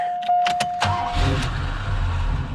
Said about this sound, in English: we'll get the engine running.